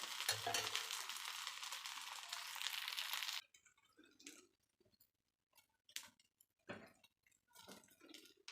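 Kuzhi paniyaram made from white sorghum batter fry in a pan, giving a dense steady sizzle for a few seconds that then drops to scattered soft pops and crackles.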